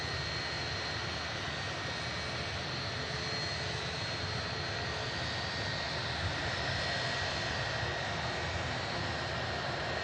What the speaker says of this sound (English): Now also on the taxi out is EasyJet from Paris.